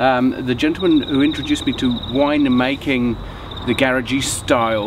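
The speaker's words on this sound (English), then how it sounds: "You can hear the cicada in the background actually" A cicada trills steadily in the background as a high, pulsing buzz throughout, running under close conversation between two men outdoors in New Zealand.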